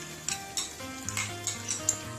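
Cream is stirred into a simmering Indian vegetable curry in a pan: a soft, continuous sizzle with repeated scraping strokes of a spoon, close up and fairly quiet.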